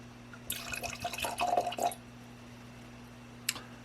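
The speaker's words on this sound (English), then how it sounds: "pour a little more" Malbec wine poured from a bottle into a glass, a close, soft splashing trickle lasting about a second and a half before stopping, with a faint clink afterward.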